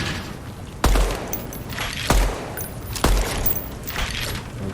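Gunfire at targets in the video game Deadrop: three sharp, spaced shots ring out loudly with short decaying tails over a low game ambience, no talking.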